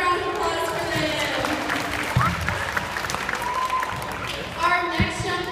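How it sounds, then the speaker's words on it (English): Applause rings out in a gym during a cheerleading clinic, a dense steady patter of many hands with some crowd noise and a few sharp thumps, lasting several seconds. "Give a round of applause for them"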